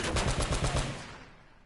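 Rapid automatic machine gun fire from the video game Uncharted: Drake's Fortune rattles in a quick burst of close shots, then trails off into a fading echo.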